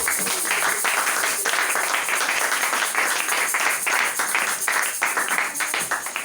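Congregation applauding during a church seminar service, a dense continuous wash of many hands clapping at close range, loud and sustained throughout without pause.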